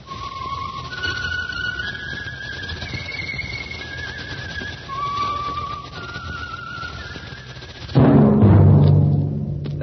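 A lone whistler carries a slow, sliding melody in clear long notes, the theme of the Signal Oil radio drama The Whistler, then a burst of dramatic orchestral music crashes in near the end.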